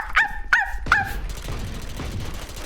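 Skye's dog ability in the tactical shooter Valorant lets out three quick, sharp yapping barks, loud and close, followed by quieter game background sounds.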